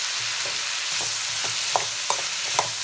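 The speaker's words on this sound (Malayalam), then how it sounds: "അതിലേക്ക് ഒന്ന് വെണ്ടക്ക ഇടുക കേട്ടോ." Okra fries in a pan and gives off a steady, close sizzle. A few soft scraping stirs break in at intervals, with no talking.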